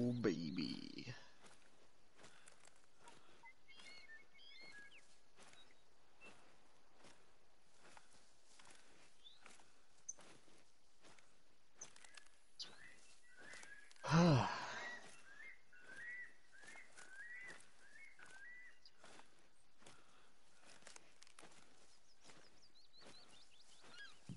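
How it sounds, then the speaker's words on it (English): Birds chirp and whistle across a quiet outdoor map in theHunter Call of the Wild, Te Awaroa, with faint scattered calls and soft footsteps, one louder rustling burst midway and a short melodic trill sequence. "A lot of bird noises in this map."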